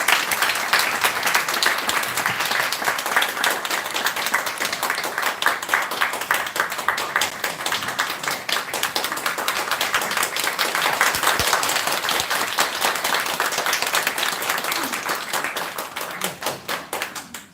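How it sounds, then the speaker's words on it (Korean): A hall audience at a North Korean human rights forum applauds to welcome the guest speaker to the podium: long, lively, continuous clapping from a sizable crowd, loud and even for over fifteen seconds before tapering off at the end. "큰 박수로 환영해 주시면 감사하겠습니다"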